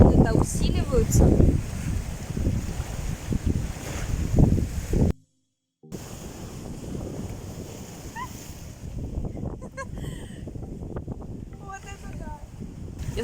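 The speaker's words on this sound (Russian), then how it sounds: "А волны-то усиливаются." Sea waves and strong wind buffet a boat off Inisheer in the Aran Islands, a loud continuous rush and roar with heavy gusts on the microphone, broken by a brief dropout midway.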